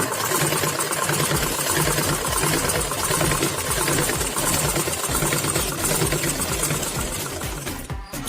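A sewing machine stitches fabric cut from old clothes for a handbag, a loud, close and continuous mechanical whirr that keeps an even rhythm throughout.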